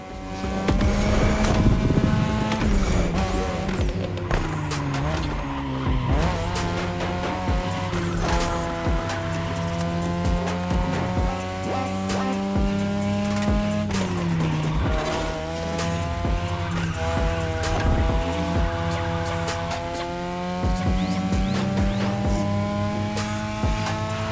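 Race cars tearing along a Japanese mountain touge road in The Crew Motorfest: a loud, continuous engine roar with revs climbing and dropping through gear changes, with tire squeal mixed in and no talking.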